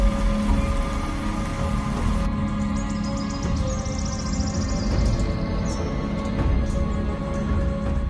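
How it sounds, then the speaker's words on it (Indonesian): Steady rain falls in a dense, even hiss that carries on throughout, with a constant low hum underneath and faint high chirps coming in partway. "Hujan ini."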